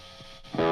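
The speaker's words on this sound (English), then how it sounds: "When you have this much distortion and overdrive going, it's a crucial piece of the equation." An electric guitar run through heavy distortion and overdrive sounds a brief, thick, buzzing chord that swells loudly in the last half-second after a quieter sustained tone.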